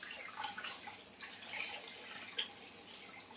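Tap water runs in a soft, steady splash while chicken legs are washed under it, faint and close, with a few brief drips and clinks and no talking.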